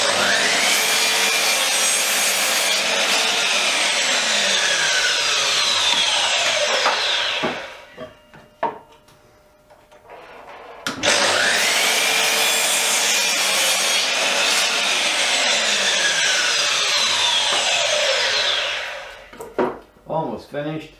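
A saw cuts through wooden decking boards for trough planters, two long loud steady cutting runs with a brief pause of clatter and handling between them, close and alone.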